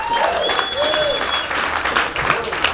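Applause from a live audience at a spoken word event, following a duo of performers; dense, steady clapping fills the whole stretch, with a few whoops and voices rising over it.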